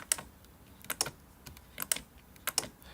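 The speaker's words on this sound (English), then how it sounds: "When you turn all of them on, it's a louder clunk because they're all making the noise." Relays in a Zooz Zen20 Z-wave power strip clunk on, giving about eight faint, sharp clicks in uneven pairs over a quiet room hiss.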